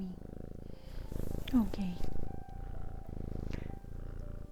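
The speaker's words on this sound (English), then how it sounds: "Hope this purring isn't too loud for you, but I can't resist having a kitty in my lap." A pet cat purrs steadily in a person's lap, the low rhythmic rumble pulsing continuously from close by while a voice speaks softly over it.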